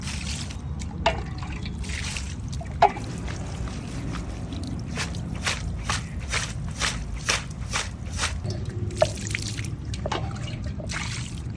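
Red Kashmiri chillies being rinsed in cold water, giving a run of soft trickles and drips with small splashes, fairly close and steady, with no talking.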